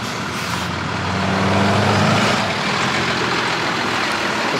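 Heavy road traffic rumbles past a car, with a loud, broad engine roar that swells and fades as trucks pass nearby.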